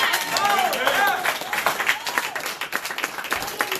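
Church congregation applauding during a Spanish-language sermon, broad clapping mixed with voices and some cheering over the crowd noise.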